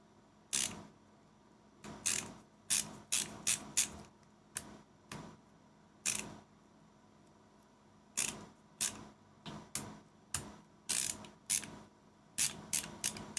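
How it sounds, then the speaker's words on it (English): A ratcheting screwdriver clicks in quick bursts of sharp mechanical ticks, close and crisp, with short pauses between irregular runs of clicking in an otherwise quiet room. "this screwdriver is really fun to mess with"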